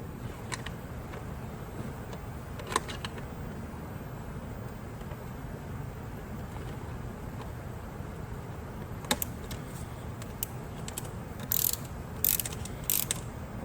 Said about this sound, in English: Then we'll grab our ratchet.